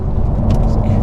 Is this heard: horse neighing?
no